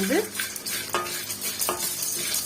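Grated coconut stir-fried in a kadai, spatula scraping and stirring over a steady, soft sizzle in repeated strokes, close by with no talking.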